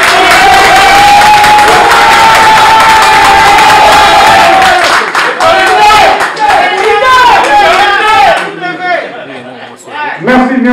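A crowd at a press event cheers, shouts and claps loudly, the dense noise easing toward the end as voices break through.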